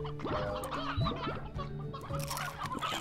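Video game chickens in Slime Rancher clucking in a busy overlapping chorus, close and continuous, with brief squawks and game sounds mixed in.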